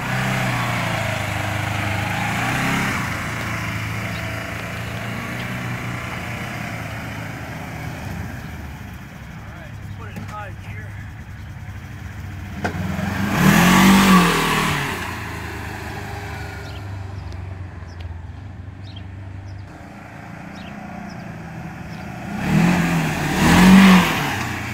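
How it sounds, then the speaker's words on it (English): A 2019 Polaris Ranger XP 1000 side-by-side with a 1000 cc engine accelerates hard, its engine note rising in surges with two strong bursts of revving. A person talks over the steady engine drone in between. "when I punch it, there's no fast motion or anything here. This is all going to be at normal speed."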